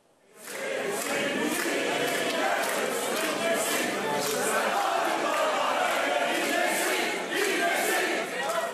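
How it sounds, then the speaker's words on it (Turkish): Packed courtroom crowd erupting in sustained applause and collective chanting, a loud, dense roar of clapping and many voices that swells in and holds steady. "Mahkeme salonunda tabii alkış tufanı koptu. Her bir ağızdan gençlik marşı söylendi."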